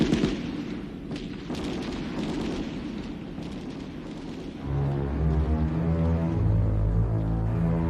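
Heavy rapid gunfire crackles in dense bursts as Turkish commandos fire automatic weapons, then gives way to loud booming, rumbling tones, like a battle scene with automatic weapons firing up close.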